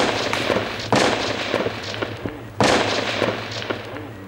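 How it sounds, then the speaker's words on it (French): Gunfire aimed at police in the street below a rooftop in Iraq, a rapid scatter of sharp cracks and pops with two heavier, louder bursts, echoing outdoors with no voices. "Je crois qu'on tire sur les flics juste en bas."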